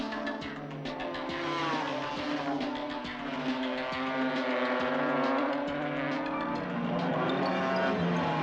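Racing cars at the 1981 Easter Bathurst race, braking from around 140 miles an hour; loud, steady engine roar with shifting pitch as several cars pass close together, with no talk.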